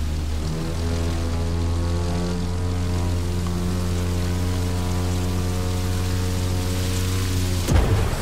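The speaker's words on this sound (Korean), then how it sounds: "물 튀는 느낌이랑 고기 굽는 소리랑 치익 소리랑 비슷해요" A seaplane in The Crew 2 skims across water, giving a steady, loud sizzling hiss of spray under a droning propeller hum that runs unbroken for about eight seconds before a brief thump near the end.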